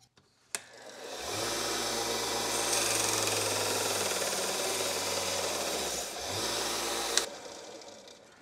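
A power sander working on a PLA 3D print: a sharp click, then a sustained loud abrasive whir with a low motor drone, a brief dip near the end, and a final click as it stops, close and alone.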